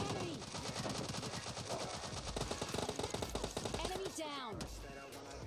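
Rapid bursts of automatic gunfire in PUBG Mobile Lite, a dense stuttering rattle of shots running almost continuously, loud and close, with a sharper flurry near the end.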